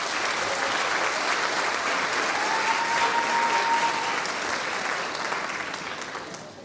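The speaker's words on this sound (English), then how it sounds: "You can give yourselves and the 5th graders a round of applause" Sustained applause from a school concert audience at a fifth grade orchestra festival, a dense steady wash of many hands clapping at even loudness for several seconds before tapering slightly at the end.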